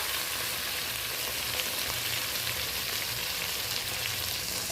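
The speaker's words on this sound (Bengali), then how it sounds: "কাঁকড়াটাকে আমি আলাদা করে ভাজলাম না, এই পেঁয়াজের সাথেই ভালো করে কষিয়ে নেব" Crabs frying together with onions in a hot pan of oil make a steady, close, dense sizzle with no breaks and no voices.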